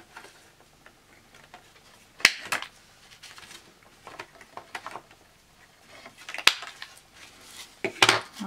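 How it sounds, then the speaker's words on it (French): Scissors cut paper for a handmade envelope card at close range, giving a series of sharp snips and crisp clicks with quiet gaps between them. "je vais couper aussi un peu à l'intérieur"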